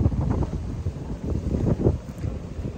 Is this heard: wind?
yes